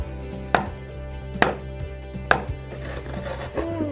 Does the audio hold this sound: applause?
no